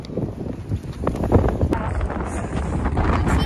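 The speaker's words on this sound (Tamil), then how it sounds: "காத்து." Gusty wind buffets the microphone at Cavendish beach on Prince Edward Island, Canada, a steady broadband rumble that swells and dips, with faint voices in the background.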